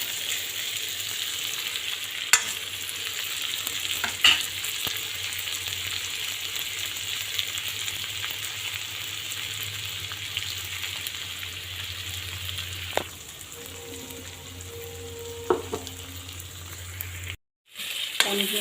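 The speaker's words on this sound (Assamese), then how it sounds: "পনীৰখিনি অকণমান লাইট ভাজি ল'ম" Paneer pieces frying lightly in a pan give a steady, close sizzle that runs unbroken, with a few soft clinks and stirs of a utensil.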